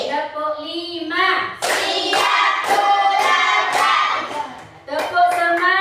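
Schoolchildren clap out a five-count rhythm in unison, a run of loud group hand claps framed by a teacher's speaking voice and children talking.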